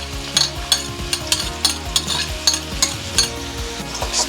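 Onion, garlic and ginger sizzle in olive oil while being stirred, a constant frying hiss under regular scraping strokes of a utensil against the pan, close and fairly loud.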